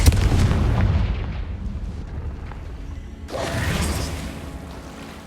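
Confringo fire spell blast in the video game Hogwarts Legacy, a loud booming explosion at the start that rumbles and fades, followed by a second whooshing burst a few seconds later.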